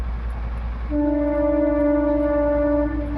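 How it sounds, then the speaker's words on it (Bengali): A train rumbles steadily nearby, and about a second in a loud, sustained horn blares for nearly two seconds over the heavy low drone. "দেখো ওদিকে ট্রেন যাচ্ছে ট্রেনের আওয়াজ কতটা পাচ্ছ জানি না"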